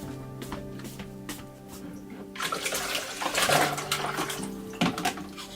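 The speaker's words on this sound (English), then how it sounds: "Aryan uses the ice-cold water that his dad prepared earlier" Ice-cold water splashes as a boy washes his face in a very cold winter village, quiet trickles at first, then louder splashing and pouring over a soft background tone.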